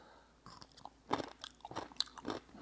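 A crunchy homemade dill pickle is bitten and chewed, with several loud, close crisp crunches in quick succession over a short stretch and no talking.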